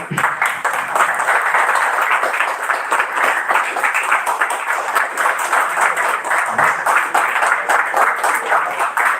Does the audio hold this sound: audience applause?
yes